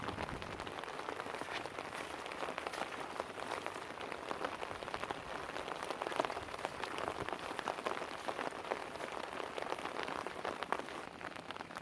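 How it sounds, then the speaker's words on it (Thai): Heavy rain pours steadily over rice-farming country, a dense, continuous hiss of drops pattering on surfaces, loud and close with no break and no voices. "ฝนตกเลย"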